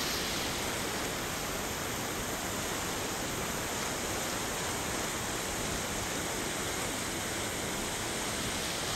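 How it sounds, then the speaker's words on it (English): Water pours over the top of a weir in a continuous, loud, even rush, with no other sounds heard. "You can see the water's starting to come over the top of the weir up there."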